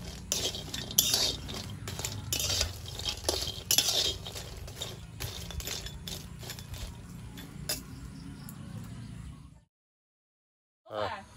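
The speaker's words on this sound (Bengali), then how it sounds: "এবারে শুকনো কচুগুলো শুকনো খোলায় ভেজে নেব।" Dried taro dry-roasted in an empty pan, stirred with a metal utensil, giving repeated close scraping and clinking against the pan over a low hiss, then cutting off into silence before a brief rattle returns.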